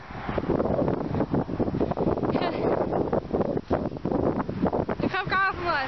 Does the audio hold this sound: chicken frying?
no